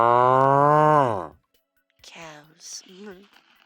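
A loud, drawn-out cow moo lasts about a second, then after a short pause a person's voice follows with a few sliding, wavering calls imitating the moo.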